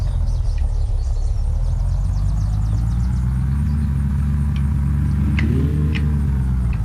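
Car driving in the video game Unturned, a loud continuous low engine rumble with a rising pitch sweep partway through, no speech.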